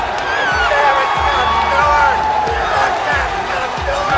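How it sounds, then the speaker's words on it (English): A paintball championship crowd roars and cheers loudly and steadily through the whole moment, with whoops over a dense wall of voices and a low thudding pulse repeating about every two-thirds of a second underneath. "he hits that buzzer and the crowd explodes"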